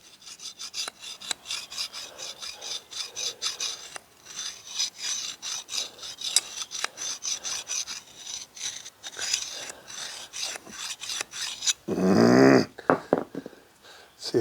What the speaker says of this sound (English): I'm going to show you how I've come to sharpen knives over the years.